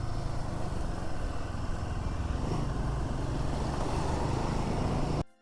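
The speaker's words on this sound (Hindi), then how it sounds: "अब खींचेगी बाइक।" Motorcycle engine pulling hard along a mountain road in Himachal's Spiti region, a steady loud drone with wind rush throughout that cuts off abruptly at the end.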